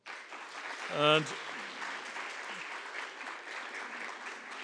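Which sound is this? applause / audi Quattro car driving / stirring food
applause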